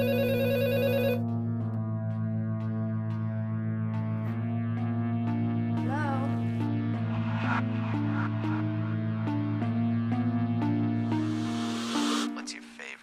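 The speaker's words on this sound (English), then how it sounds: "Answer the phone." A telephone rings with an electronic, repeating tone over a steady low hum and music-like tonal layers, continuing for several seconds with small bursts of other sounds mixed in.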